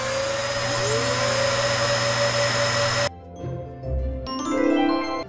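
A vacuum cleaner drones loud and steady for about three seconds, then cuts off abruptly, leaving a few bright electronic chime tones.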